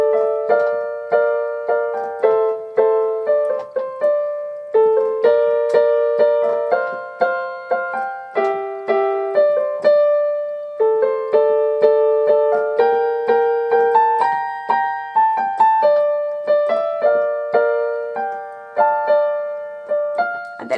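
Solo piano plays the right-hand melody of the Pirates of the Caribbean theme alone, a steady run of clear single notes and short phrases for about twenty seconds at even loudness.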